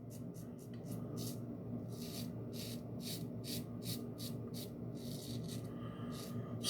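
Double-edge safety razor shaving neck hair, a series of quiet, short raspy scraping strokes in an irregular rhythm, close and faint against low background noise.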